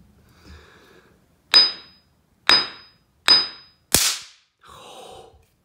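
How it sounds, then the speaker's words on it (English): A hammer strikes a shock-sensitive oil four times in quick succession, each blow a sharp, loud crack like a cap gun, close and alone. "I just missed that with the hammer"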